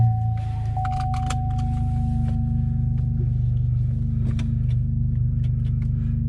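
A Chevrolet ZR2 race truck fitted with Chevrolet Performance ball spline half shafts on a test drive: a steady low engine and road rumble heard from inside, with occasional light rattles and clicks.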